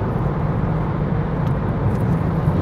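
Several Corvettes in a line on a Dubai road: steady, loud engine and tyre roar with a low rumble, continuous and unbroken, heard from close by with no talking.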